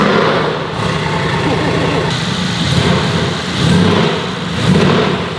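A Mercedes-AMG GT V8 with its exhaust valves closed idles and then swells through several deep, loud revs close by, with voices talking over the engine.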